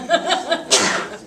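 A person sneezes once, close and sharp, after a few soft breathy chuckle-like catches of breath.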